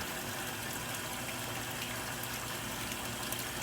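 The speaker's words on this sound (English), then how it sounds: "pour in a capful of the detergent" Extra Tropical Passion laundry detergent is poured from its cap into a washing machine, heard as a steady wash of liquid over continuous machine and water noise.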